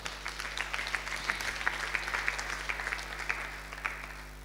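A church congregation claps in praise, a loose, moderately distant patter of many hands with scattered sharper claps over a low steady hum.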